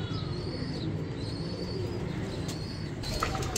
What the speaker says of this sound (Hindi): लेकिन एक कबूतर और आपको दिखा रहा हूँ